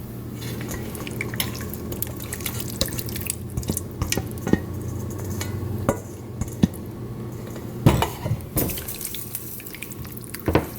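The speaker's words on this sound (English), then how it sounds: "Just stir it in and mix up your steak in there." Steak stirred into a pot of beef broth for stroganoff, with wet sloshing and liquid drips over a steady low hum, plus a few sharp clinks of a utensil against the pot.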